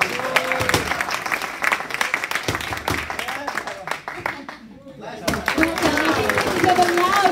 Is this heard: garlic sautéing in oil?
no